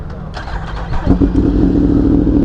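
A new Yamaha R1 sport motorcycle's engine starts up and settles into a loud, close, rising rev that holds steady, with a few faint voices nearby.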